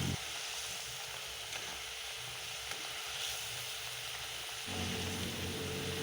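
Hilsa fish in mustard sauce with green chillies sizzling softly in a pan as the pieces are turned, a faint steady crackle with a brief scrape of movement, no talking.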